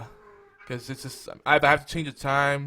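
A domestic cat meows in the background, its drawn-out cries partly masked by someone talking close to the microphone.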